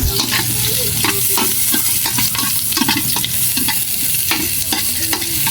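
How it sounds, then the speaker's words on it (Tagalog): Jackfruit sautéed with onion and garlic sizzles loudly and continuously in a pan, with repeated scraping stirs throughout, up close and with no voices. "Gisahin na natin yung langka."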